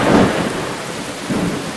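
Steady roar of heavy rain with low rumbling thunder swelling at the start and again near the end, no voices.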